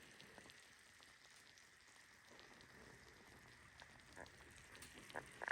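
A spinach and cheese pie just out of the oven sizzles softly, a faint continuous crackle with small pops that grow slightly toward the end, heard alone.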